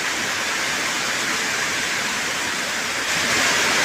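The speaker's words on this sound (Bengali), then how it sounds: "জানালা দিয়ে বৃষ্টি দেখছি" Heavy rain pours steadily during a Kalbaishakhi storm, heard from near a window as a dense, even hiss that grows slightly louder toward the end, with no voices.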